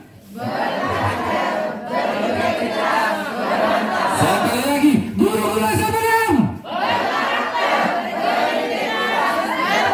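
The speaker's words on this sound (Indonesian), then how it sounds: "memimpin yel-yel kita pada pagi hari ini" Teachers at SMA 6 shout a group yel-yel cheer chant together at a morning school event, a loud crowd of voices rising into a rhythmic, pitched chant midway while a leader talks over the start.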